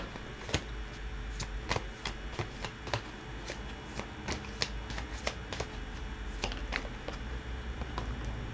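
Tarot cards dealt one at a time onto a surface: quiet, close card snaps and flicks at an uneven pace over a steady background hiss.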